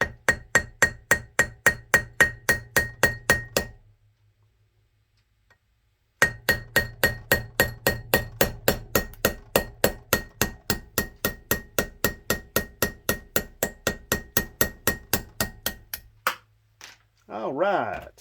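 Rapid, steady metallic hammer blows on a punch driving out a Mopar distributor shaft, a close, loud, even rhythm that pauses briefly, resumes for a long run, then stops with a few scattered knocks.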